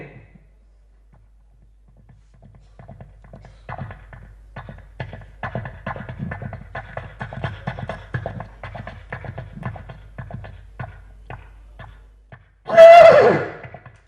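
A performer vocally imitates a horse running on sand: about ten seconds of rapid, soft, muffled hoofbeats build in a continuous patter, then end in a sudden loud, close mimicked whinny.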